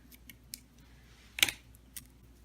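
Scissors snip off leftover paper while a Halloween planner paper clip is being made, a few quiet snips and one sharper cut, close and with no talking.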